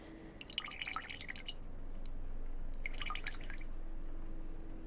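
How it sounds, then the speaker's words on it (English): Water dripping in close ASMR-style recording, with two clusters of quick, bright drips and splashes separated by a quieter stretch over a steady low background hum. "Let's try the dripping sounds."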